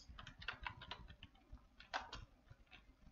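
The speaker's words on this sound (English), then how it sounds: "I'll type the question here so you understand what type of question it is" Faint, irregular clicks of typing on a computer keyboard, a few quick keystrokes in loose bursts over a quiet room background.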